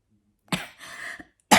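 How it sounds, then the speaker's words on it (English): A single wet cough bursts out after a silent pause, then a short throat-clearing catch, and a second loud cough starts at the very end, close and clear. "I can't do it without coughing at the moment"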